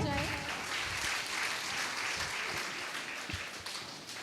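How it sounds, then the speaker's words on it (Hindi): An audience at a Matron's Day feast-day gathering at Nazareth Hospital, Prayagraj, claps in a dense, sustained burst of applause that gradually thins and fades, with voices mixed into the crowd noise. "तो जोरदार तालियां हो जाएं।"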